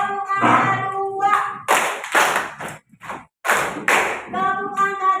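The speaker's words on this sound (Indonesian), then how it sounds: "tepuk angka 2," Students in an Indonesian classroom alternate unison chanting with two clusters of crisp, loud group claps that follow a counted pattern.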